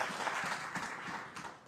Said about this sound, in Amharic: አንዴ ለራሳችሁ አጨብጭቡ